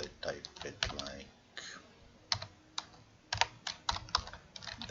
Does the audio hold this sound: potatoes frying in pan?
no